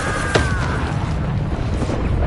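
In Hogwarts Legacy, a Confringo spell explosion lands as one sudden boom early on, followed by a loud rumbling wash of game effects that continues to the end.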